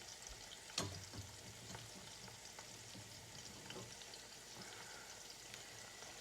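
Food for chicken biryani frying in a pan, a faint, steady sizzle with a brief stirring clatter near the start and no talking.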